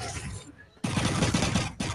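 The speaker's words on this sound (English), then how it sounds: "The noises of the gun." Rapid automatic gunfire from the film Rebel Moon Part 2, loud dense bursts that break off briefly and resume, heard as playback in a room.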